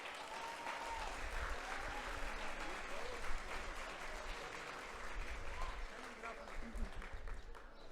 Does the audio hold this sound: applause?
yes